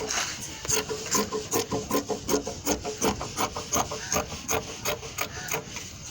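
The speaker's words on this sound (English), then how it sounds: "So I cut out the two together." Fabric shears snip through two stacked layers of cloth for a plain and patterned short gown, a steady run of about a dozen crisp, rhythmic cuts close by with no talk.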